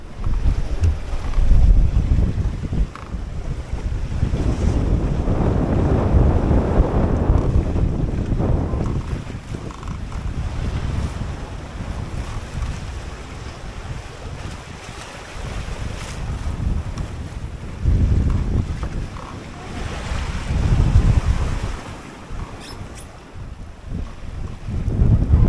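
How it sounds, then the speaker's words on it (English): Strong wind and ocean waves buffet a 21ft home-built sailboat on a solo Atlantic crossing, rushing in loud surging gusts with heavy microphone wind roar and swells rising and falling over about 25 seconds, no talk. "I just checked the wind. It's blowing 21, which isn't as strong as it was last night"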